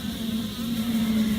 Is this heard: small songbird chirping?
no